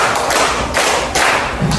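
A classroom of students claps together during a concentration game, producing a few loud, slightly ragged group claps in a regular rhythm, close and full-sounding.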